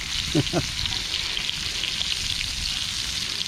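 Oysters fry in a pan outdoors by Hood Canal with a loud, steady close sizzle. Two quick knocks of the pan or utensil come near the start.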